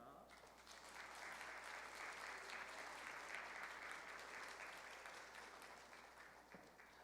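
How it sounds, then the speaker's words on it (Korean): A church congregation applauds during a Sunday service as gifts are presented, giving warm, sustained clapping that swells and then gradually tapers off over several seconds. "우리 선물 증정할 때 큰 박수 주시기 바랍니다."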